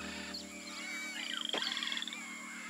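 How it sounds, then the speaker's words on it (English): A tiny poison dart frog calls in a rainforest with a short trilling, pulsed croak over a steady background hum of insects and forest ambience, fairly faint and alone. "A frog? A poison dart frog!"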